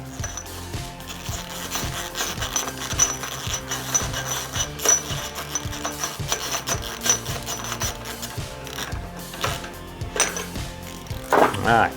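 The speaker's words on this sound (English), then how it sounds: "change direction of your ratchet, and start by hand" Ratchet wrench clicking steadily while tightening an axle nut on a GT Pro Series Heritage BMX bike, a close, rapid run of mechanical ticks that continues for several seconds.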